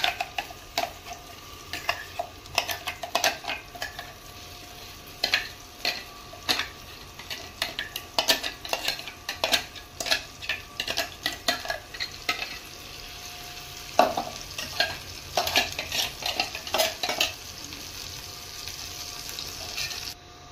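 A prepared green pea paste for kochuri fries in a pan while being stirred, with rapid, rhythmic metal scrapes and clinks repeating over a quiet, steady sizzle for about twenty seconds.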